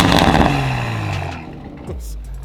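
A 2020 Toyota Supra engine revs loudly through its exhaust, the pitch climbing and then dropping away before settling back into a deep, steady idle rumble close by.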